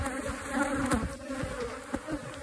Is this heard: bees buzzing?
yes